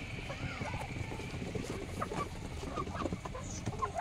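Chickens and ducks clucking softly while eating scattered feed in and around a coop, several quiet overlapping clucks and pecking sounds close by, with a person talking over them.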